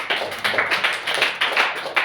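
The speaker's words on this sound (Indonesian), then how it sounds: "Tepuk tangan dulu untuk Nanat." A church congregation claps for a young member during a sermon: steady, dense applause with uneven surges, close and fairly loud, lasting about two seconds.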